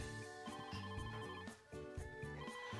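A delivery phone in a video game rings in steady repeated trills over a layered musical background, with no voices.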